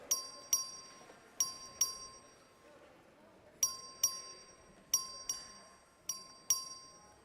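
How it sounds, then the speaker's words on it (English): Bell rung for a record vote in the Texas House chamber: bright, clear dings come in quick pairs, spaced apart, in a quiet hall. "Clerk, ring the bell."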